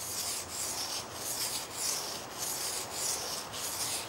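A woodcut gouge worked back and forth on sandpaper to sharpen it, a close, steady rhythmic scraping in repeated strokes roughly every half second, with no voices.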